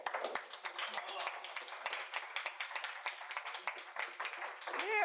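Scattered clapping from students in a university biophysics lecture hall, a sparse run of sharp individual claps spread over several seconds, with a voice speaking briefly near the end.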